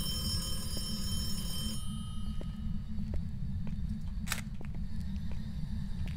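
A telephone ringing in the ghost-hunting video game Phasmophobia, a faint high electronic ring under a steady low droning hum, with a brief brighter burst partway through and scattered soft clicks.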